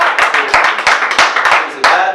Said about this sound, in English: One more hand of applause for